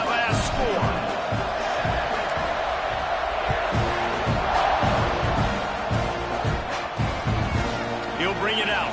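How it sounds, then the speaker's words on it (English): Stadium crowd in a College Football 26 game buzzing steadily after a score, a dense continuous roar with scattered shouts, under a commentator's voice throughout. "this crowd is buzzing after that last score"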